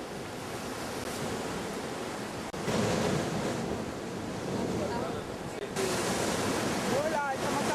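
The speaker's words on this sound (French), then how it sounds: "les vagues passent en dessous la route et ça sort par là" Ocean waves wash under a coastal road in Polynesia and surge out the other side, a loud continuous roar of surf with wind buffeting the microphone and a voice talking faintly beneath.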